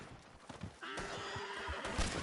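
Horse in a video game letting out a loud, drawn-out whinny over quieter hoof clops, close and clear for about a second and a half.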